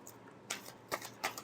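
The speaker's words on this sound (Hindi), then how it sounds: "एक और शफल करेंगे।" Tarot cards being shuffled by hand make three soft, brief riffling bursts, quiet and close, with no voice over them.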